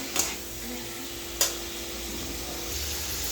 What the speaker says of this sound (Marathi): फ्राय होईपर्यंत आपल्याला तळून घ्यायचं पनीर मस्त एवढं तेलामध्ये